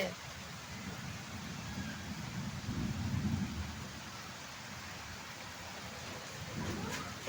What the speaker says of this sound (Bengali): এই বৃষ্টি যেভাবে নামছে